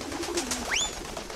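Pigeons in the video game Jazzpunk: a soft, low coo is followed by a quick rising bird call, close and fairly clear over a faint background hum, with no talking.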